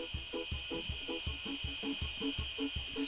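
A surgical drill whirs in the Surgeon Simulator video game, a rapid series of evenly spaced grinding pulses over a steady high whine, close and loud with no talk.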